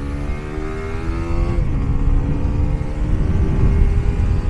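A new Honda CBR150R single-cylinder motorcycle on a test ride holds a steady engine drone, then drops pitch with a gear change and keeps pulling, loud and close with no talk.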